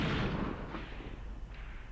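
A gun fires in the Graviteam Tactics war game. A single heavy, muffled boom opens the clip, followed by a rumbling decay into a low background roar.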